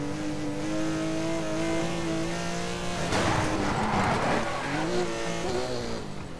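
Cars race in the video game Need for Speed Most Wanted, engines droning and revving loudly with a burst of tire squeal and skidding midway, and no voices.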